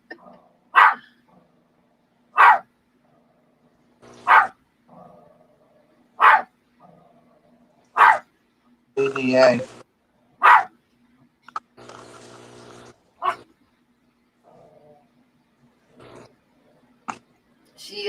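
A dog barks repeatedly at a cat indoors, sharp loud single barks spaced every couple of seconds, with a scuffle and some softer yips in between and a person's voice at times.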